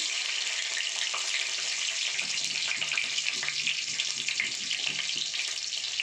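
Green chillies sizzle in hot oil with mustard seeds in a pan, giving a steady, bright frying hiss that runs continuously at moderate level with faint crackles underneath.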